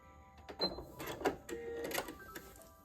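A sewing machine stitching quilt pieces with Aurifil thread at a 2.0 stitch length, running in short bursts of rapid mechanical whirring and clatter separated by brief pauses, close by.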